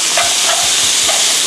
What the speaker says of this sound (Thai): นี่ก็ผัดให้เข้ากันนะคะ